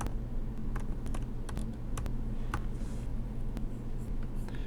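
Keys click on a computer keyboard as a word is typed into photo-editing software, with quiet, irregular taps heard up close over a low background hum.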